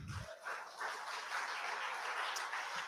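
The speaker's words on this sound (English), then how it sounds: "Round of applause for the Brower family" Applause breaks out for a family being thanked at a fall fundraising event, a steady round of clapping filling the room for a few seconds at moderate volume.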